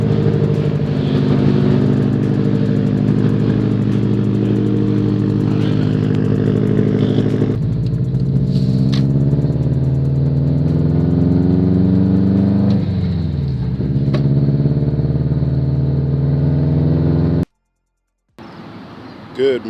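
A Subaru WRX engine idles steadily with a loud, deep, throbbing rumble heard close up, its pitch shifting slightly partway through before cutting out briefly near the end.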